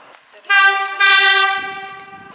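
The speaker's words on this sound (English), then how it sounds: "Engine driver sounds horn as the train approaches a trestle bridge." A locomotive horn on the Savannah lander train blares as the train approaches a trestle bridge: two loud, close, sustained chord blasts that fade at the tail, with no talking over it.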